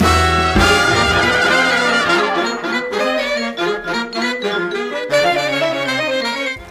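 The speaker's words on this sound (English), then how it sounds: "what you just heard is the beginning to One Hell of a Time, the Devil's final theme in the game" Piano and saxophones from the Cuphead soundtrack play the opening of "One Hell of a Time," the Devil's final boss theme, as a lively jazzy passage that stays loud, busy and instrumental with no talk.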